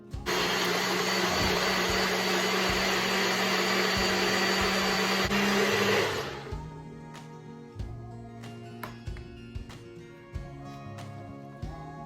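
A blender making a smoothie roars loudly and steadily for about six seconds, then cuts off, leaving scattered clinks and knocks of handling.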